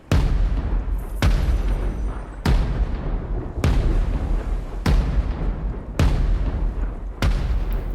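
Heavy booming explosions go off about every second, one after another, over a steady roar of crackling fireworks in the video game Sea of Thieves, loud and close.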